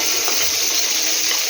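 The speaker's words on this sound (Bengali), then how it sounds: "পেঁয়াজটাকে ভালো করে ভাজবো।" Chopped medium onion frying in oil in a pan, a steady bright crackling sizzle with continuous hiss, close and fairly loud, no voices over it.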